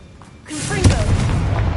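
A Confringo fire-blast spell in the video game Hogwarts Legacy erupts in a sudden heavy boom that swells and rumbles on, loud and close, with a voice speaking over it.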